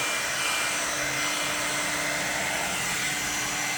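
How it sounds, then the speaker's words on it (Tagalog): A hair dryer blows at close range in a steady, loud, unbroken whoosh with a faint whine, heard on its own without speech. "Mag-blower ka para dali nga."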